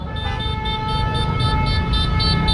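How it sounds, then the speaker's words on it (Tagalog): Car horns honk in repeated short blasts over a low, rumbling traffic drone during a political convoy, pulsing in a quick, steady rhythm. "Busina! Busina! Busina! Busina! Busina! Busina!"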